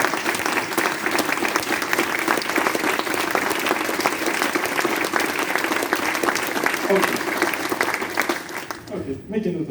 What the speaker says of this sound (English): Please count your claps.